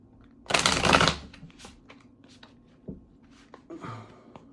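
A deck of oracle cards is riffled in one quick burst, followed by soft scattered card taps and handling sounds close by.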